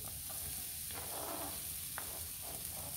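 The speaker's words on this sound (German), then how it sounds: "erst einmal die Zwiebel in dem eigenen Saft brutzeln lassen" Chopped onions sizzle and hiss steadily in a nearly dry frying pan (skovorodka) with only a little oil, a close, continuous crackle with faint stirring.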